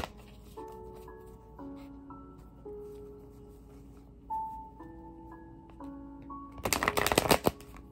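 A deck of cards gets a quick, dense, crackling riffle shuffle near the end. Before it comes a quiet passage of soft music.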